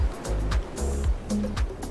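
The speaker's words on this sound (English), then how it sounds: "we can literally hear the ocean" Ocean waves heard from a house in Malibu roll in as a loud, continuous surging wash with repeated swells and crashes close by.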